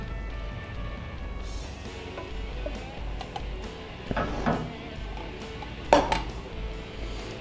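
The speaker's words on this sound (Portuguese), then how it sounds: "Enquanto eu vou trabalhando com o risoto, mexendo sempre" A spoon stirs spinach risotto in a pot, with soft scraping and occasional metallic clinks against the pot, under a steady kitchen background hum.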